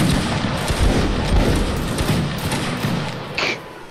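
Musket volley from a line regiment in a Napoleonic Wars line-battle game: a thick rolling crackle of many shots merging into a booming rumble, with scattered later reports fading toward the end.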